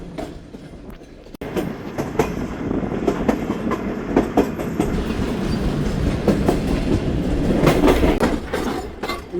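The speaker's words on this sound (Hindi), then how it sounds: "9:33 पर दोस्तों ट्रेन पहुँच रही है हमारी सादिकाबाद" The Bahauddin Zakariya Express passenger train runs on rails, heard from inside with a steady loud rumble and a clickety-clack of wheels over rail joints, continuous throughout with no talk.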